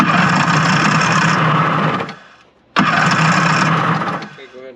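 A 1984 Kawasaki stand-up jet ski engine, a JS550 or JS440, cranks and catches in loud, close, rough revving bursts with a brief drop in between, as voices talk nearby.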